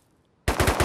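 Automatic gunfire in a first-person shooter game, a sudden loud burst of rapid shots starting after half a second of near silence and pounding on steadily to the end.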